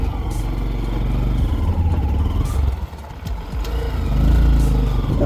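A monkey bike engine running outdoors in strong wind on a dusty hill, a close, low, throbbing motor note that dips briefly and then swells again, with wind buffeting throughout.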